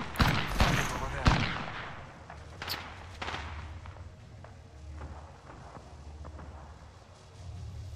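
Bursts of gunfire in Apex Legends, heavy shots at the start, then scattered quieter shots and movement over a low rumble, with a voice talking.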